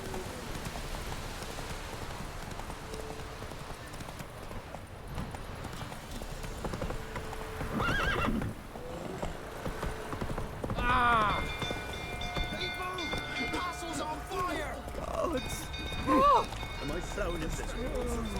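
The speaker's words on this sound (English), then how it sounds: "Run, Roach." Hoofbeats of the horse Roach clip-clop in Witcher 3 as it gallops through rainy game ambience, with speech around it and a few sharp game sound effects.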